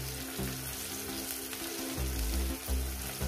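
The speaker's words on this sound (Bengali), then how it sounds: "পেঁয়াজ কুচিটাকে প্রায় আমি 2 মিনিট ভেজে নেব" Chopped onion fries with salt in hot oil alongside a bay leaf, a continuous close crackling sizzle with a few stirring scrapes and shifts in intensity.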